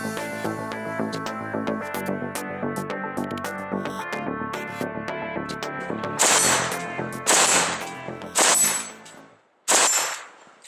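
An AK-47 rifle fitted with a Manticore Arms Eclipse flash hider fires four sharp, loud shots at spaced intervals on a range, each followed by a brief ringing tail, after a stretch of layered tonal sound.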